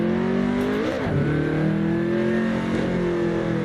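BMW race car in Assetto Corsa, its engine revving hard with rising and dipping pitch through gear changes, loud and close with no talk.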